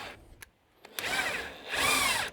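Power drill unscrewing a brake damper bolt on an Ifor Williams trailer, a couple of short clicks then two rising whirring bursts of the motor, close and loud, with a brief pause between them.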